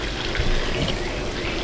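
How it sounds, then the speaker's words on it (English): Water pours steadily from an outdoor fountain, a continuous close splashing rush with no pauses and no voices over it. "I could literally sit here all day and listen to the water pour from the fountain"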